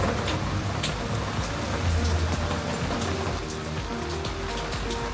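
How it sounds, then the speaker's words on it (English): Heavy rain pours down outdoors in Florida, a dense, steady wash of drops drumming on surfaces, loud and close, with no voices. "Very rainy today in Florida."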